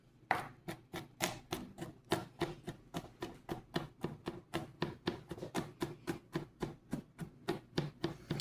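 Garlic is chopped with a bone knife on a cutting board, giving a quick, even series of sharp taps at a steady rhythm, close and clear with no talking.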